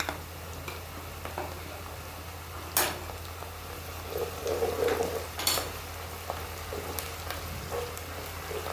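Ginger garlic paste fries in a pan for a mixed vegetable curry, giving a steady low sizzle broken by a few sharp scraping stirs and utensil clinks, heard close with no talk.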